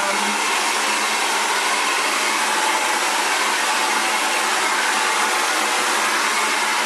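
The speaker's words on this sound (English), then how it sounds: "if you're going to blow dry it, you might as well blow dry it" Xtava Allure professional ionic ceramic hair dryer running steadily while blow drying curly hair, a loud continuous whooshing hiss with a low motor hum, unbroken for the whole stretch with no talking.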